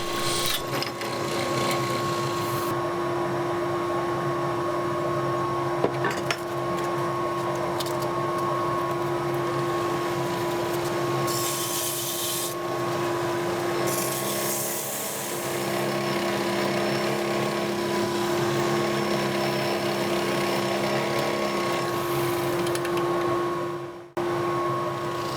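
A wood lathe parting off the end of a walnut ring box, steady whirring with a sustained tonal hum and brief tool scrapes throughout, fairly close.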